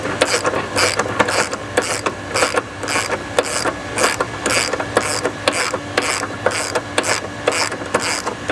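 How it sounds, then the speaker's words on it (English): A ratchet wrench clicks steadily, loosening 22mm and 13mm bolts on the factory IRS cradle brace of a 2015-2024 Ford Mustang; the pawl chatters in fast, even bursts, close and fairly loud, with no talk. "You're going to remove the 22mm large bolts and the 13mm smaller bolts to remove the factory cradle brace."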